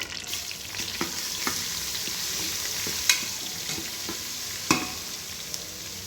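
Ginger garlic paste fries in a pan for mint chicken, giving a steady close sizzle broken by a few sharp clicks and scrapes of a stirring spoon, with no talking.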